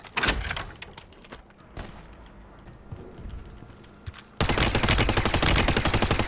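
Gunfire in Call of Duty Warzone, with a few sharp shots and clatters early on, then a sudden loud, sustained burst of rapid automatic fire filling the final two seconds.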